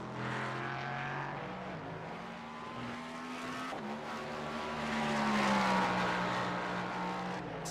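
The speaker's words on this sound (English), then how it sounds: "The sound of that Cadillac, so good." A Cadillac race car in the iRacing video game roars at full throttle, its engine pitch rising and falling through gear changes as it passes other cars, loud and continuous with no talk.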